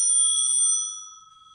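Bell on a split-frame Columbia Light Roadster antique bicycle, one bright ring that fades out smoothly over about a second, close and clear with no talking.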